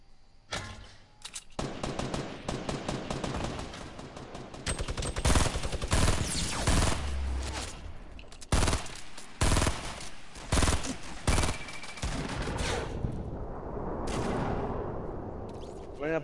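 Fortnite Battle Royale gunfire crackles in dense, rapid bursts, automatic fire mixed with single heavy shots, loud and up close. Repeated volleys break off and start again.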